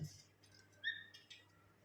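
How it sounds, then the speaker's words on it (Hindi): A pet parrot gives a single short, shrill squawk partway through, faint against an otherwise quiet indoor background. "तुम्हारी जगह तोता आवाज दे रहा है"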